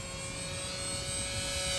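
Durafly Goblin 820 mm RC racer plane motor running at half throttle gives off a steady, even whine with a persistent high tone. It holds at a constant level throughout, with no voices.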